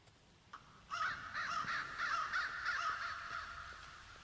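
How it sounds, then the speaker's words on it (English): Crows caw repeatedly inside a video game environment, a dense flock of harsh, overlapping calls that rise after a faint opening and continue steadily and loudly to the end, with no talk. "this place is swarming with crows"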